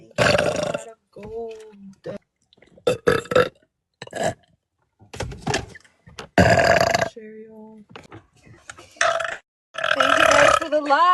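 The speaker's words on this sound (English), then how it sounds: "That one belched." A woman burps loudly several times during a livestream, the deep belches coming in separate bursts between stretches of her talking and laughing, close and prominent.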